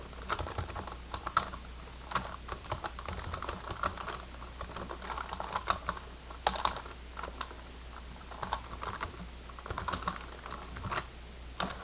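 Typing on a computer keyboard while entering text in PowerPoint 2013, a steady run of close, light key clicks in irregular bursts with brief pauses, heard alone without talk.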